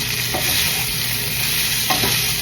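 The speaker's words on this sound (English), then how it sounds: "I'm gonna stir it all up." Food sizzles steadily in a frying pan on low heat while a spoon stirs it, with a couple of scraping knocks; tofu is among the ingredients. Continuous hiss, close and fairly loud, no talking.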